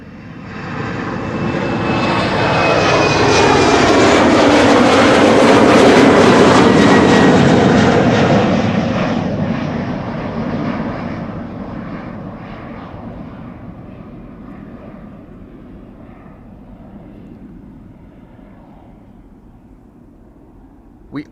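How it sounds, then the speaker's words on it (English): An Embraer jet climbs away after takeoff from Amsterdam's Polderbaan runway, its engine roar swelling loud and close, then fading steadily into the distance as the aircraft departs. "The Embraer already airborne."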